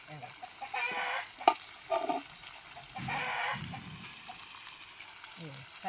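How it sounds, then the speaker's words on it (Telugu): Tamarind juice poured into a pan of sizzling fish curry in a village kitchen, giving bursts of hissing and bubbling with stirring noises, interrupted by short clucks of nearby chickens. "చింతపండు రసం పోస్తాను"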